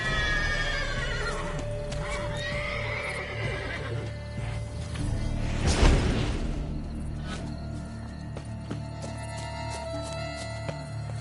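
A horse whinnies loudly near the start and again around the middle, with hoof clops and ambient game sounds running throughout, in the video game The Witcher 3: Blood and Wine.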